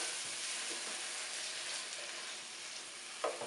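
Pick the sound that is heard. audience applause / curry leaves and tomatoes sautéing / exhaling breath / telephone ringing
curry leaves and tomatoes sautéing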